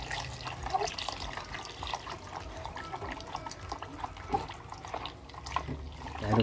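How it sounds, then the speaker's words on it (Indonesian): Alcohol poured into a container while making carbomer hand sanitizer gel, a soft continuous trickling and splashing of liquid with faint drips, quiet and alone. "Kita tambahkan lagi ya alkoholnya hingga full 833 mili."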